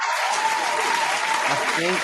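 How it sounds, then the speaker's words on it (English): A short burst of dense applause, steady and loud for two seconds, with a faint voice underneath. "Round of applause for the late great John Singleton"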